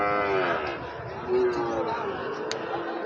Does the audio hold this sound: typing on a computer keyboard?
no